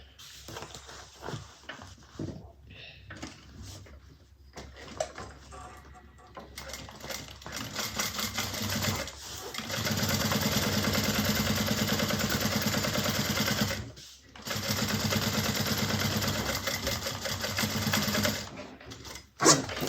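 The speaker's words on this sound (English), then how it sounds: "And now I'm going to top stitch right across the bottom." A sewing machine topstitches across the bottom of a Nola bag, starting with a few hesitant stops and fabric handling, then running in a loud steady close hum broken by one brief pause.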